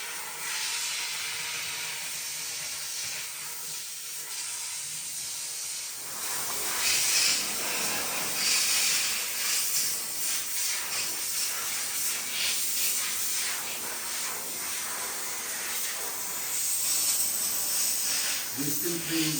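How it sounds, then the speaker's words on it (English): Dry steam cleaner blasting bathroom grout, tile gaps and fixtures, a steady loud hiss that runs almost the whole time, swelling and easing as the nozzle moves, close up and alone without talk. "We clean every groove, gaps, and every fixture in the bathroom with the dry steam."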